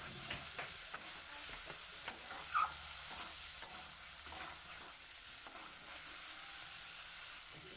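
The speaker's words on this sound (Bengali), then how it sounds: "ভেজে রাখা চিংড়ি মাছ দিয়ে মশলার সাথে কষিয়ে নেব" Pre-fried prawns are stirred into sizzling masala with turmeric and salt, a constant frying hiss broken by repeated scrapes and clicks of a spatula against the pan.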